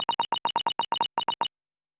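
Sharp electronic beeps from the video game The Great Ace Attorney, about a dozen short identical tones in a quick, slightly uneven Morse-like rhythm, then silence.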